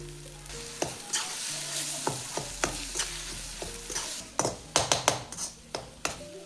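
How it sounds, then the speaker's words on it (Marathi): Chopped onion and salt are stirred into a sizzling bharit in a pan over a wood-fired stove, with repeated utensil scrapes and taps over a steady frying hiss. "कांदा मिक्स करून घेते याच्यात आणि मीठ टाकून देते घेते"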